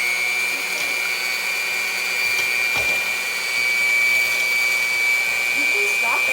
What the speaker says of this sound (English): mixer on whisk or paddle attachment. Stir on low until it becomes foamy.